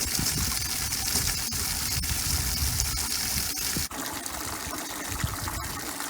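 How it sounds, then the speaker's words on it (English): Water runs steadily into a livestock water trough fitted with a float valve, a continuous broadband rushing and trickling that stays loud and unbroken throughout, with a brief dip near the end. "Seems to be filling well."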